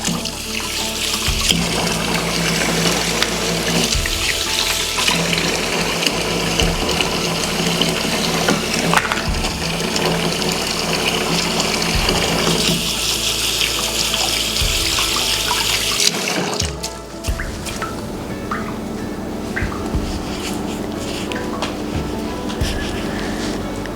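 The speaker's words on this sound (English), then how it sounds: "Now I'm gonna wash my hands, so pardon me." A kitchen tap runs steadily while hands are washed beneath it, a loud continuous rush of water with splashing changes as the hands move, shifting in tone near the end.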